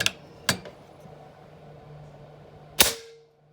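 Three sharp, snappy shots from a .25 Benjamin Marauder air rifle with a Gen 2 SS valve, two in quick succession and a louder one after a pause, over a faint mechanical hum.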